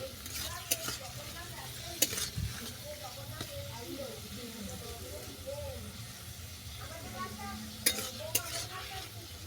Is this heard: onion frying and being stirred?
yes